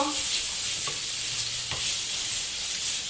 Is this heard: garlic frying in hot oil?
yes